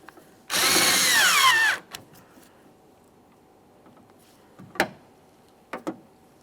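A power tool snugs up the exterior door handle bolts on a 2011–2021 Jeep Grand Cherokee, one loud close whir lasting just over a second, followed by a few faint clicks and knocks.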